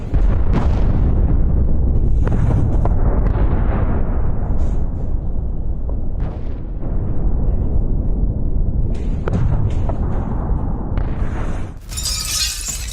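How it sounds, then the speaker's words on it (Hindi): A loud, dense roaring rumble comes from an explosion and fire at the Orenburg gas processing plant in southern Russia, with repeated cracking bursts and a sharp hiss near the end. "दक्षिणी रूस के गैस प्रोसेसिंग प्लांट में विस्फोट।"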